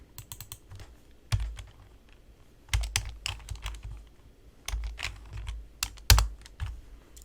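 Computer keyboard keys pressed for a Ctrl+D shortcut while building an ice cream shop in the Zepeto Build It editor: short clusters of crisp, close key clicks separated by brief quiet gaps.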